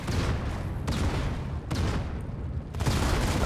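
Grenade blasts in the mobile shooter Modern Combat 5, a dense run of loud bursts and rumbling booms in quick succession, with sharp hits about every second amid continuous battle noise.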